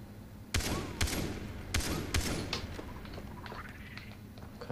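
A bomb shot until it explodes in Far Cry 3: several loud, sharp gunshot cracks in quick succession with heavy booming blasts and rumbling debris trailing after.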